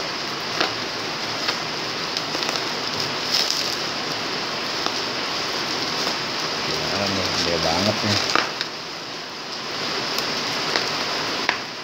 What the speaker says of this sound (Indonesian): kondisinya lagi hujan. Baru mulai nih hujan, baru turun.